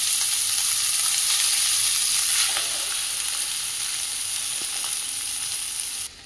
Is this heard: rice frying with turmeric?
yes